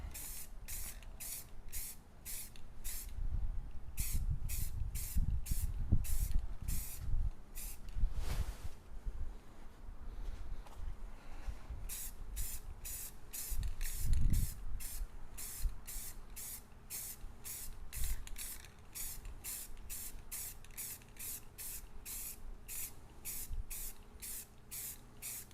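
Light mist from a spray can applied to a surface outdoors on a breezy day, delivered as many short rapid hissing bursts in quick rhythmic succession, close by, pausing briefly midway, with low rumbling handling noise and wind beneath.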